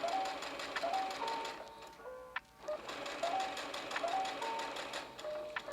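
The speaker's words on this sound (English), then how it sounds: "I am backstitching a little bit at the beginning and the end every time I'm sewing in this video." A sewing machine stitches a ribbon tunnel with backstitching, giving rapid mechanical whirring bursts that stop briefly in the middle and then resume, close and steady.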